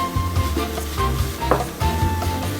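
Finely chopped onions sizzling in a pan for a quick savoury mince budget meal, a steady close frying hiss with scattered stirring clatter throughout, no voices.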